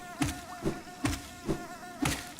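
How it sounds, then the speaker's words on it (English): Buzzing bees from the video game Hollow Knight, a rhythmic insect drone pulsing in repeated swells about every half second, with soft thuds on each pulse, fairly quiet and with no talking. "Stupid bees"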